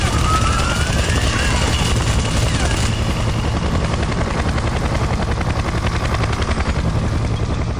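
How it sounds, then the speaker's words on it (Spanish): In the video game Splinter Cell Conviction, a helicopter fires at the player: a loud, continuous rotor drone with rapid gunfire bursts layered on top, filling the whole stretch. "Me disparan desde un helicóptero."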